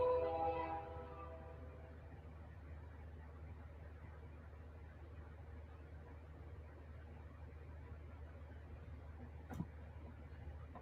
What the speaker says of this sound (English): Fucking trains.